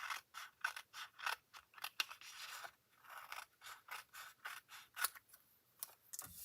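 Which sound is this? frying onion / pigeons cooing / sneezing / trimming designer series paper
trimming designer series paper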